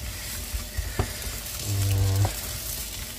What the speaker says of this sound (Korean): 고추기름을 듬뿍 넣어 주시고요. 야채 먼저 볶아 보도록 할게요.